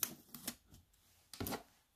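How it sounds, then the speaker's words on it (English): Cut and emboss machine die-cutting cardstock for a birthday card: faint, close mechanical clicks and short grinding bursts, a few spaced pulses with quiet gaps between. "let me run this through the cut and emboss machine"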